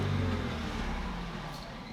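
A V6 Ford Mustang drives on the road with a steady, close engine rumble and road noise that fades slightly over a couple of seconds.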